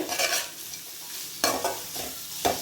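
Cabbage and other vegetables for veg fried rice are stirred and lightly sautéed in a pan, a soft sizzle broken by a few sharp scraping strokes of the spatula, close up with no voices.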